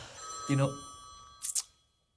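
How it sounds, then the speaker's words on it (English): Telephone in a hotel room ringing with a bright electronic bell tone, heard once up close and briefly, then cut off, with faint room noise around it. "that's the phone ringing here"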